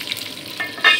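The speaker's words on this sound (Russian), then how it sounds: "Параллельно еще жарю котлеты" Beef mince cutlets sizzle in a frying pan, a brief close burst of hissing fat with a sharper crackle at the end.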